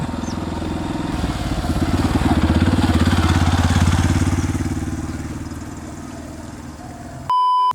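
A motorbike passes by in an open area where people practise bike riding. The engine note grows louder, holds as the bike goes past and then fades away, ending with a short electronic beep.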